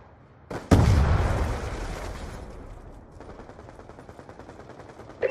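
A loud grenade blast in Call of Duty Black Ops 2 team deathmatch bursts close and decays into a long rumble, followed by rapid gunfire chatter.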